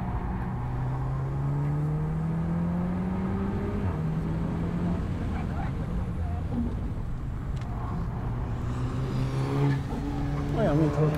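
A VW car on a race track rides over a kerb, its engine droning with steady tones that rise and fall as it accelerates, heard close and continuous.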